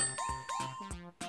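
Bright metallic rings from a Halli Galli board game bell being tapped, several quick dings in succession with short decays, heard close up during a family game.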